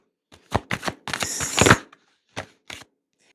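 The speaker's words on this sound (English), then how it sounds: "and now as I'm shuffling, it's like, ooh, the cards are sticky." Tarot cards are shuffled in a few quick riffling bursts, close and crisp, with short pauses between them and no talking.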